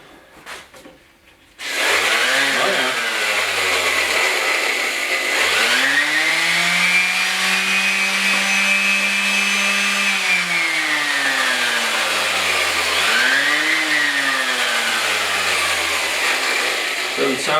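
A Porter Cable 343 orbital sander in poor working order starts up after a brief quiet moment and runs loud and close with a rough whine whose pitch sags and rises unevenly.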